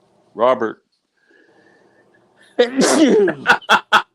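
A single sharp sneeze near the microphone, followed after a brief pause by a person speaking and short bursts of laughter.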